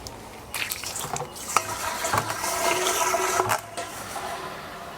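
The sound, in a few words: tap water filling home brewing fermenters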